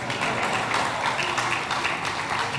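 Audience applause at a book event on the life of cricketer Sir Wesley Hall, a steady, dense wash of many hands clapping at moderate distance, sustained throughout without a break.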